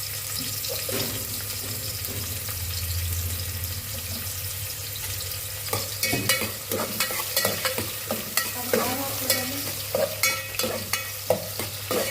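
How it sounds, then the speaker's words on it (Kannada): Onions fry in heated oil with a constant sizzle, then a spatula scrapes and stirs in a steady rhythm through the second half, close and clear, no one talking. "ಎಣ್ಣೆ ಕಾದ್ಮೇಲೆ ಈರುಳ್ಳಿ ಹಾಕ್ತೀನಿ."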